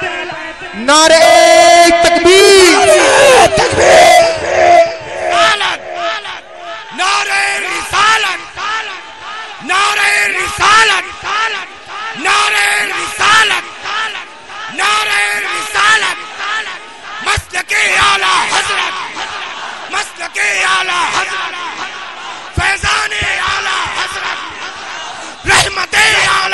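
Crowd at a religious devotional gathering shouting slogans back in unison in response to a lead chant, loud repeated bursts of massed voices in rhythmic call-and-response waves across the whole stretch.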